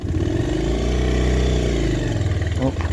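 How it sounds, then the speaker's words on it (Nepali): A motorcycle engine labours steadily while riding through cold, snowy hills, a close, throbbing mid-pitched drone rising and easing slightly with the throttle. "बाइकलाई चाहिँ चिसोले एकदमै तनाव दिइरहेको छ मेरो बाइकलाई"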